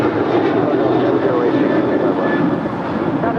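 A jet airliner at Los Angeles International Airport, landing or flying west, making a loud, steady engine roar that holds throughout the clip.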